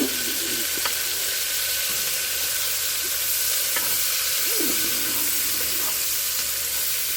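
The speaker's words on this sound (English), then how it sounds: "You're going to cook the onion until it's translucent. Break it up and make sure you get all the large pieces apart." Onions sizzle and fry in a pot over a campfire while a utensil stirs and scrapes them. The sizzle is a loud, constant hiss with a few scraping strokes and occasional clinks, and no one speaks.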